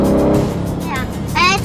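Engine of a yellow and black P1 car rumbling in sport mode, a low, smooth growl that swells slightly toward the end while a person talks over it.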